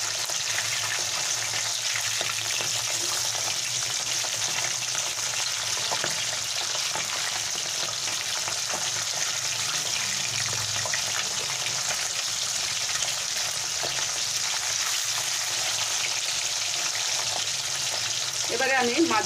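Hilsa fish pieces frying in hot oil make a continuous close sizzle with occasional spatter and small handling knocks, and a brief clatter near the end.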